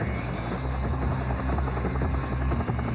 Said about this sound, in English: This is an MH-53 Pablo helicopter.